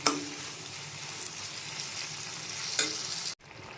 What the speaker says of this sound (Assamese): পিঁয়াজ, নহৰু, জলকীয়া আৰু বিলাহীৰ পেষ্ট যিখিনি বনাই থোৱা আছে সেইখিনি মই ইয়াত এড কৰি দিম